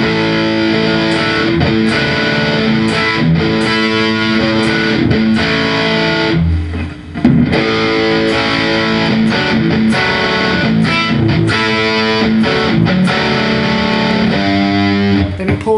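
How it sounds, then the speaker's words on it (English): A distorted electric guitar chugs the chord riff, loud and continuous with heavy sustained crunch, rhythmic chord stabs and a brief dip midway before the riff resumes, with no voices. "So it'll sound like this."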